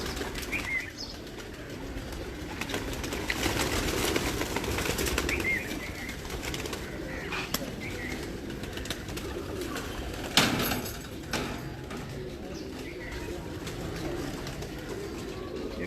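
Flock pigeons on a rooftop coo in a low, steady murmur, with a sudden burst of wing flapping partway through and lighter rustling around it.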